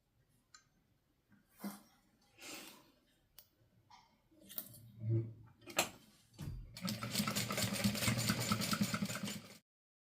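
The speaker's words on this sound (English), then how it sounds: "I'm going to sew at a 1/4 inch all the way across, back stitching at the beginning and the end." A sewing machine stitches a quarter-inch seam through fabric with backstitching, first in short stop-start bursts with handling clicks, then a steady close whirring run of about three seconds before stopping.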